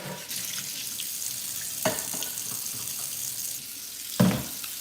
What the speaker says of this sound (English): let me wash my bowl so I can use this to melt the chocolate